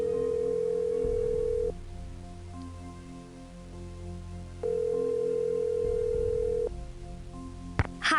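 A phone line ringing in the 1999 Nancy Drew game Stay Tuned for Danger: two long electronic ring tones with a pause between, clear and up close, with a small click near the end.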